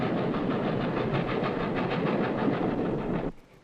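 Narrow-gauge Rio Grande train on the Silverton line running steadily, a dense continuous rumble with faint rhythmic clatter, loud and close, cutting off abruptly near the end.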